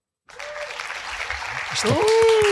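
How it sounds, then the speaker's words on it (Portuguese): Studio audience applause on a Portuguese television show, breaking out suddenly and swelling into loud sustained clapping, with a presenter's voice speaking over it toward the end. "um grande aplauso para o nosso Oleg"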